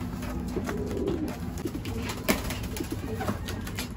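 Pigeons of the African Black Eagle breed coo softly and steadily in a low repeated rumble, several birds close by with faint background noise and no talking.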